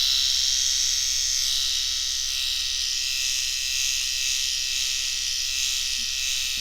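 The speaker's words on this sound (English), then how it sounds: "I'm going to use the short side of it on my eyebrows." A Microtouch Titanium Max electric trimmer runs up close while trimming eyebrows. Its steady high buzz holds constant throughout with no pauses and no talking.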